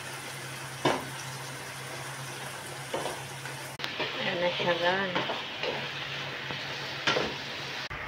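Steady sizzling of tofu frying in a pan with black pepper, with occasional stirring scrapes and a brief spoken remark partway through.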